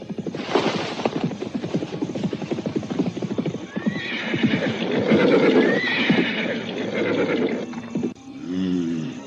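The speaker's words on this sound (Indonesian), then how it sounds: "Dari kejauhan, mereka mendengar derap kuda yang mendatanginya." Horses approach with a rapid, continuous drum of clip-clopping hooves, growing louder, as a horse neighs loudly partway through and another whinny sounds near the end.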